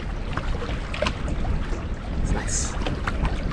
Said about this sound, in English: Because the wind is blowing me like crazy.